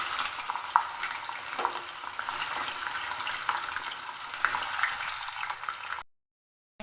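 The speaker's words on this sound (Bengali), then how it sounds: "মাছ ভাজা হয়ে গেছে" Rohu fish pieces frying in hot oil, a continuous close crackling sizzle with small pops and stirring scrapes, no voices, cutting off abruptly into silence near the end.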